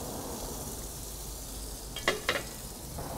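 Shallots sizzling in butter in a cast iron skillet, a steady close frying hiss with a couple of sharp utensil clinks against the pan near the end.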